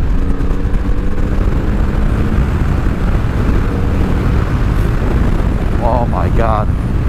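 A motorcycle on the road at speed, a bike with a fairly quiet stock exhaust pipe, makes a steady loud engine and wind roar throughout, with brief higher mechanical whines near the end.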